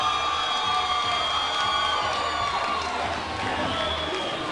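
A boxing fight-night crowd cheering and whooping excitedly, a dense, loud, continuous roar of voices with shouts rising through it from start to finish.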